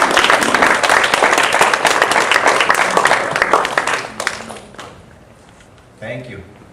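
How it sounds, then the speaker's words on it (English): A conference audience claps in a dense round of applause for a speaker at a talk on ending US and Canadian wars, loud and sustained for about four seconds, then fading out before a brief voice. "Let's give him a round of applause."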